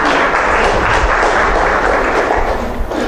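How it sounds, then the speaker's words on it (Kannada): An audience at a Kannada public lecture on the Katha Upanishad applauds, a steady dense wash of clapping from many hands, close and continuous throughout. "ಒಪ್ಪಿಗೆ ಇದ್ದು ಚಪ್ಪಾಳೆ ಹಾಕ್ಬೋದು."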